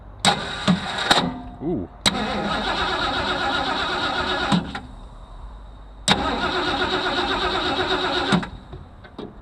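A hot rod with a suspect ignition switch cranks in several long, loud bursts with short pauses between them, the starter grinding close by. A voice briefly exclaims at the start.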